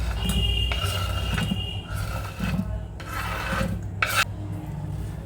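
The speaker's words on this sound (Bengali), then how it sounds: "ভালো করে মিশিয়ে দিই" Chopped candied fruit (morabba) is folded into cake batter, giving repeated rasping, scraping strokes of a utensil against the bowl, close and fairly quiet, in uneven bursts with brief pauses.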